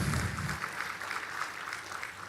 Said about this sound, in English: Another round of applause to IPCs